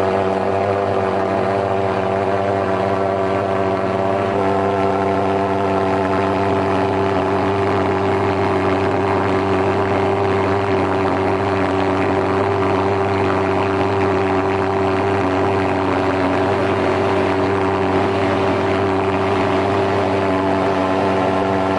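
A Baoyu-brand pulse-jet thermal fogger sprayer runs steadily, a loud continuous droning engine buzz with a strong low hum and layered harmonic whine, holding even with no voices.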